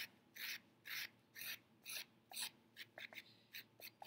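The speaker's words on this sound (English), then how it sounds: "So now I'm going to score this part." A tool scoring a wet clay slab gives short, quiet scratchy strokes at an even pace, about two per second, close and alone, with a few quicker light scrapes near the end.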